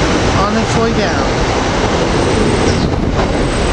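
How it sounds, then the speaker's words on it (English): A Chestnut Hill East commuter train pulls in on track two at 30th Street Station, a loud continuous rumble of wheels and rail noise that fills the platform. "Coming in on track two is the Chestnut Hill East train"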